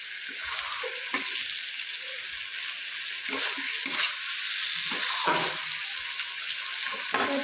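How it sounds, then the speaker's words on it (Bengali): Sliced ridge gourd sizzles in a hot pan while a spatula stirs it in bursts, giving scraping clatters over a steady frying hiss, close and fairly loud. "সামান্য একটু হালকা হাতে একটু নেড়ে নিতে হবে।"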